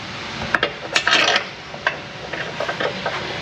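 Metal bolts are handled and started into a car subframe near the fuel tank, giving a string of close clinks and scraping metallic taps in an irregular rhythm, with no talking.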